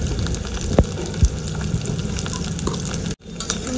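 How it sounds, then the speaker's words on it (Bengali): Potatoes frying in hot oil with whole dried red chillies and black cumin, a loud close crackle and hiss with two sharp knocks early on and a short dropout near the end, no talking. "কেটে ধুয়ে রাখা আলুটা ছেড়ে দেবো তেলের মধ্যে"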